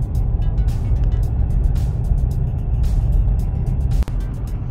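A car cruising along an open road at around 40, with a loud, steady engine and tyre rumble close up, constant throughout, and one brief dip near the end.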